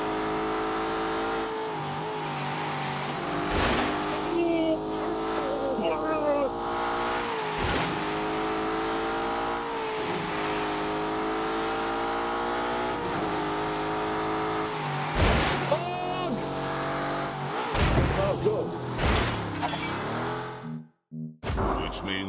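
A car engine is fired up and revved on snow, with repeated rising and falling revs and sharp bursts over a continuous engine drone, fairly close and loud, with some voices mixed in.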